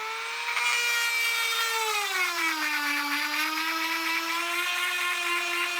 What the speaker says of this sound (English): So I'm going to go ahead and grind.